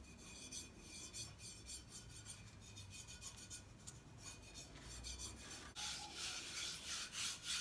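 Material is worn down by hand-rubbing in a bottle-and-cardboard recycling craft project, a close, continuous scratchy abrasion with repeated strokes that grows brighter and rougher near the end.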